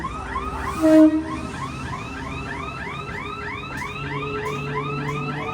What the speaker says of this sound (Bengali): ওমা, উপরি পাওনা হয়ে গেল ট্রেন